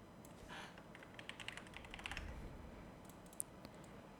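Someone types on a computer keyboard with light, quick key clicks in an irregular burst, close and fairly quiet, with no speech over it.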